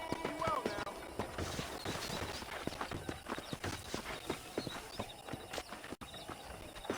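Horse hooves clip-clop at a walk on a ranch in the Red Dead Redemption video game, with a brief whinny near the start and faint game ambience beneath the steady footfalls.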